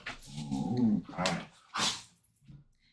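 Dogs whimper and whine indoors in a short series of high, wavering cries with brief gaps between them, close by and fairly quiet.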